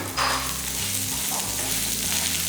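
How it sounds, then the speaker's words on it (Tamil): Dried red chillies and lentils frying in oil for a pirandai thuvaiyal, giving a loud, close, continuous sizzling crackle throughout with no talk. "எல்லாமே நல்ல எண்ணெயிலேயே நல்லா வறுபடணும்"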